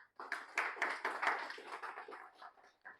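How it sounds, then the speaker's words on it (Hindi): A small audience at a planning seminar claps together, a loud burst of uneven hand claps that thins out and fades to quiet by the end. "एक बार जोरदार तालियां आप लोगों के लिए।"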